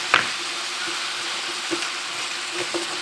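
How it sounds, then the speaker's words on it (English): Green pepper and onion sizzle with chicken in a pan for fajitas, a soft, steady frying hiss with a few faint knocks, close by and without voices. "we're adding our green pepper and onion"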